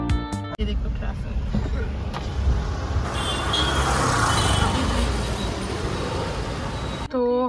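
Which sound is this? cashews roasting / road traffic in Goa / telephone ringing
road traffic in Goa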